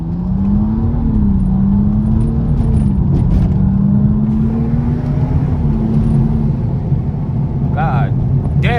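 BMW M235i driving through Johannesburg traffic, a loud, constant engine and road drone from inside the car, with voices talking over it throughout.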